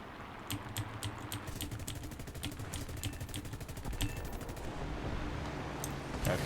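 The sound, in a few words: gunfire from a fighter plane in a video game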